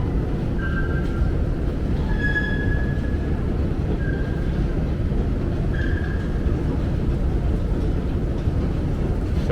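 A number 7 subway train at 34th Street–Hudson Yards, Manhattan, rumbles steadily throughout with a constant low roar, and faint squealing tones rise briefly from the wheels or brakes.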